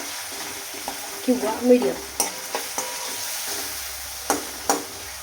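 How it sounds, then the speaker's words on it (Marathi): Tomatoes sauté in oil over a low gas flame, giving a soft continuous sizzle broken by a few light knocks from stirring, with a brief spoken remark. "टोमॅटो आहे ना पूर्ण गाळ होतं तेलामध्ये परतून द्यायचा"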